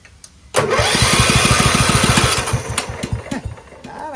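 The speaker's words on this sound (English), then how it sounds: "You could tell how fast that engine's cranking, see?" A car engine that does not run cranks rapidly on a 6000-amp 12V lithium jump starter, a loud fast rhythmic starter churn kicking in abruptly after a brief quiet start and continuing steadily, slightly uneven toward the end.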